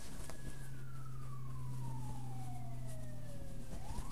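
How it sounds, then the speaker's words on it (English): Emergency vehicle sirens wail in the distance, a faint falling tone sweeping slowly downward beneath steady background noise indoors. "Oh, the sirens in the background."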